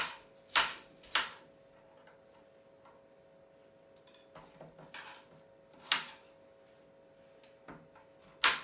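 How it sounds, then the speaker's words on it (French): Apples being chopped into small pieces with a knife on a cutting board: about six sharp, crisp chops spaced irregularly, close and clear over a quiet background. "Il faut tout découper en petits morceaux."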